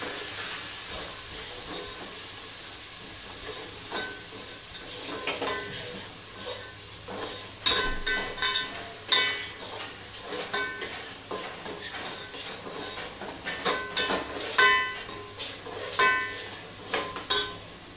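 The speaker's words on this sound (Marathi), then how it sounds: "आता हा आपण कांदा जो टाकलेला आहे तो आपण व्यवस्थित मिक्स करून घेणार आहोत." Onions stirred in a pot while cooking chicken biryani, with a steady sizzling hiss broken by intermittent metallic scrapes and clinks of a spoon against the pot, close and fairly quiet.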